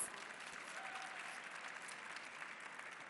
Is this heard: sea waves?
no